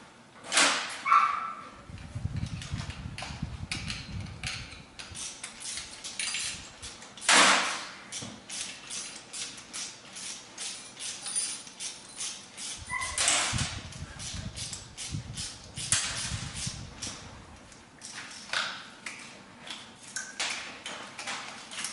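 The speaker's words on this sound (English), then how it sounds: "Sorry about our dog in the background whining." A dog whines and yips in the background of a home garage where a 2020 C8 Corvette engine is being removed, with intermittent faint whimpers and barks amid clicks and tool sounds, no talk.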